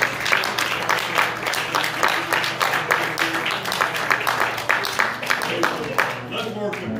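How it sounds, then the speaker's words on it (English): Congregation at a United Pentecostal church in Alto, Texas claps hands in a strong rhythmic beat, close and loud, with voices and cheering mixed in over the steady pulse. "let's give him a good hand clap"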